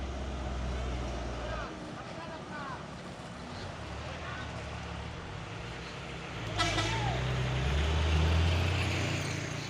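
A trailer truck climbs a hill in the right lane on a cleared road, its deep engine rumble steady and fairly distant, swelling louder near the end, with people talking over it.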